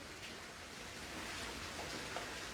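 Heavy rain falling in Jammu, a steady, faint hiss of downpour with no distinct drops or talking.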